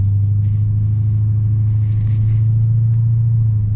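A Lexus RC F with a V8 engine cruising along a road, a deep steady rumble heard from inside the cabin, loud and constant throughout with faint higher road noise above it.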